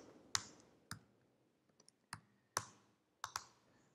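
Keys on a Mac keyboard are struck while typing a terminal command, producing a handful of sharp, separate clicks spaced irregularly, close and crisp against a quiet background.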